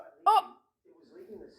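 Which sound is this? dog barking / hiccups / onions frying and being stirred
hiccups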